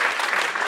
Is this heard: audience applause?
yes